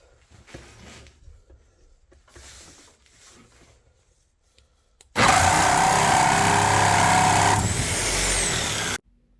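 A reciprocating saw fitted with a Diablo carbide blade bursts into a loud, harsh cut on metal for about four seconds after a quieter stretch of faint handling noise, then stops abruptly.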